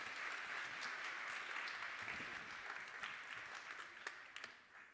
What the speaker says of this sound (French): Emeline Baume, sous vos applaudissements